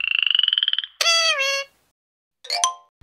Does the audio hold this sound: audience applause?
no